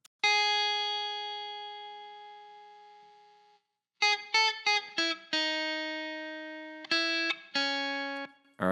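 A clean electric guitar tone for modern RnB neo soul playing, dry apart from a touch of reverb: one long chord rings and fades, then a run of short clipped chords and sustained ringing ones, alone.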